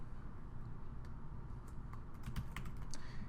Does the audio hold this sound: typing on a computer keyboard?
yes